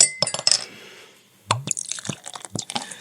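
A 4X beer bottle cap popped off, then liquid pouring with glassy clinks and gurgling splashes, close and fairly quiet, after a brief lull, with no voices.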